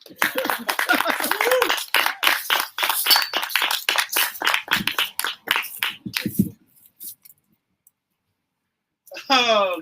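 A live crowd at a comedy show claps after a set, a dense burst of applause with a voice talking over it that thins out and stops, followed by silence and then speech.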